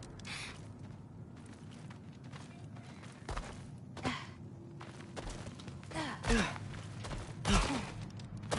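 Heavy breathing from a creature near the back of a cellar in God of War, heard as slow, faint, raspy sighs and gasps against a dark ambient background, with a few footsteps and creaks.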